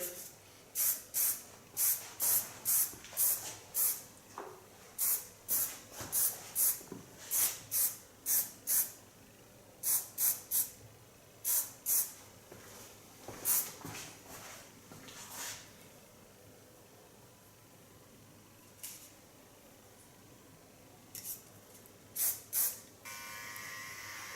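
Repeated short bursts of hair spray hiss close by, in quick rhythmic clusters separated by brief pauses.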